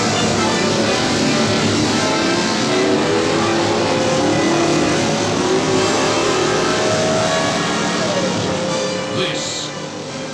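Race car engines from the 1966 film Grand Prix roar loudly and continuously, one engine rising in pitch as it accelerates over a dense, steady mechanical drone.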